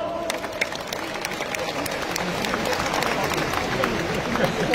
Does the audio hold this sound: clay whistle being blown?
no